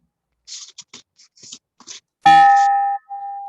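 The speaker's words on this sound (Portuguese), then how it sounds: "pedir ao nosso moderador que, em respeito ao pavilhão nacional, que, por favor, toque o sino" A bell rings at a Rotary Club meeting, struck once with a loud, ringing tone that decays over about a second, then sounds again briefly; soft rustling and faint tapping come before it, with no talk.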